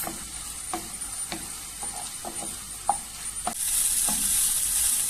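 Peppers sauté in a pan with a steady soft sizzle, broken by spatula scrapes and taps that come at irregular intervals. Near the end the sizzle swells into a louder, brighter hiss.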